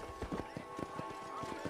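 Horse hooves clip-clop steadily in Red Dead Redemption, a brisk even rhythm of hoofbeats over a constant background hum of game ambience.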